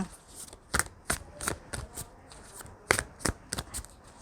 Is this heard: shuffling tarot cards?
yes